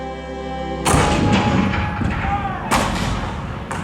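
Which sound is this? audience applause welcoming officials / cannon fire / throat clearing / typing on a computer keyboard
cannon fire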